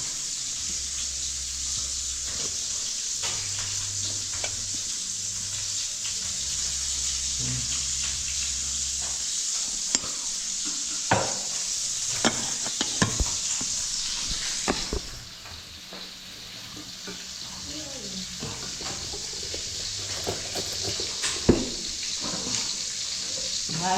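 Sliced bitter gourd (ampalaya) sautéing in a pan gives a soft, continuous sizzle with scattered scraping stirs and clinks, alongside a low hum and a brief stretch of running water, fairly quiet and without talk.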